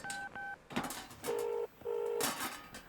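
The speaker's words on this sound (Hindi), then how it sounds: "रुको मैं फोन करता हूँ।" A telephone being dialed: a handful of sharp keypad tone beeps at the start, then two longer steady tones, heard alone and up close with no talking.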